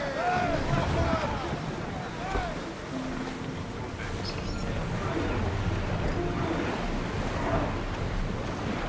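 In Assassin's Creed Odyssey, an ancient Greek ship sails over ocean waves while steady wind and sea wash roar, with faint crew shouts and chatter underneath throughout.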